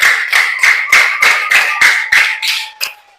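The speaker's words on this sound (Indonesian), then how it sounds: "Tepuk tangan untuk kalian semua" About ten sharp, evenly spaced claps ring out loudly in a teacher-training class session, then slow and fade at the end.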